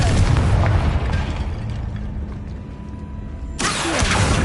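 A Confringo blasting spell goes off in the game Hogwarts Legacy, a loud booming burst at the start that rumbles and fades, then a second sharp blast bursts in near the end.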